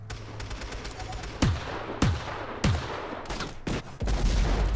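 LMG gunfire in the mobile shooter game Battle Prime: sharp, loud bursts of shots in rapid succession, several separated salvos, then a sustained low rumble at the end.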